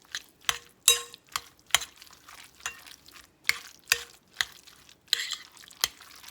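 Mayonnaise is stirred into chopped eggs for egg salad, giving a run of sharp, separate scrapes and clicks of a utensil against the bowl, roughly one every half second, close and fairly quiet.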